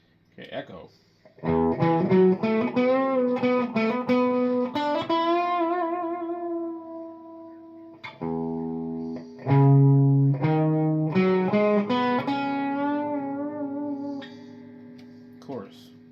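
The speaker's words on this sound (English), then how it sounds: "Okay, echo." Guitar notes played through the echo effect of an Arion Hott Watt amplifier ring out in short phrases, each tone trailing off in repeating tails with a slightly distorted edge.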